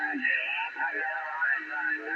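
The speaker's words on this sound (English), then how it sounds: "what you hear there is sideband, 40 channel CB" Garbled, pitch-shifted voices crackle through a 40-channel single sideband CB radio receiver, with the thin, warbling quality of sideband reception and continuous chatter.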